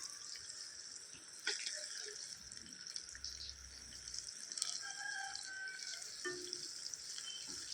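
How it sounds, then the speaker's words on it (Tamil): Marinated fish pieces fry one by one for Karaikudi-style fish varuval cooked in a garden, giving a faint steady sizzle with a few small pops and clinks. "இப்போ 1 பை 1 வறுத்துட்ருக்கோம்"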